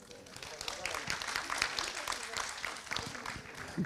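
Audience applause at a culture congress hall, dense moderate clapping mixed with background voices, continuous for a few seconds.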